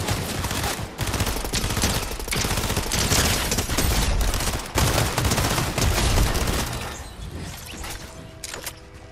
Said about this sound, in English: I got a SMG, mythic SMG.